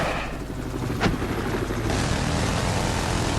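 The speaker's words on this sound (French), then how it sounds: "Heureusement qu'il y a l'hélico qui arrive à ce moment." Helicopter arriving in a war video game, a loud rumbling rotor drone with a swelling engine roar, filling the scene continuously.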